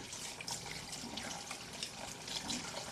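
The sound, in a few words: rinsing cooked noodles in cold water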